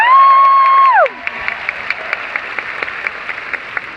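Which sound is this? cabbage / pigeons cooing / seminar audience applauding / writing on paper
seminar audience applauding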